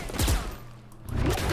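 Gunfire from a weapon in the video game Valorant, a burst of loud, sharp shots at the start and again near the end, with a quieter gap between, heard alone without talk.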